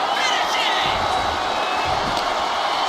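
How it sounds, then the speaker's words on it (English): A wrestling arena crowd roars loudly and continuously at a live WWE SmackDown event, a dense, sustained wall of cheering with no breaks. "The roar of this crowd has been building, and they are in a fever pitch right now"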